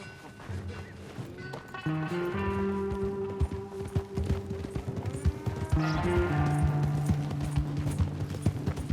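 Horse hooves clip-clop in the video game Red Dead Redemption 2, a steady trotting rhythm of hollow knocks playing under a loud sustained orchestral music score throughout.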